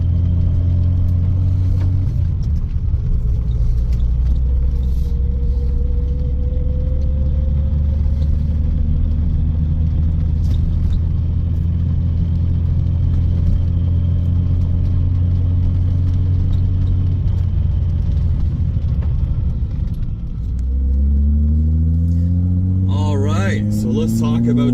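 A 1973 Datsun 240Z sports car drives along with a steady, loud engine drone and road rumble throughout, the pitch dipping and then climbing as it shifts and accelerates near the end.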